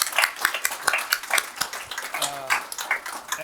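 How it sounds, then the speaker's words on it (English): Audience applause at a talk ends an event on health access in Kenya: a room of hands clapping in a steady, dense patter for several seconds, with a brief voice rising briefly near the end. "Let us give a round of applause to John."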